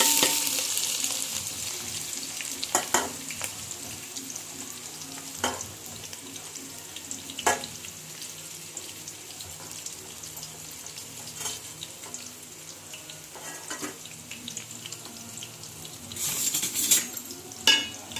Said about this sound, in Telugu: 4 పచ్చిమిరపకాయలు కోసి పెట్టుకున్న ఉల్లిపాయ ముక్కలు గిన్నెలో వేసేసుకోండి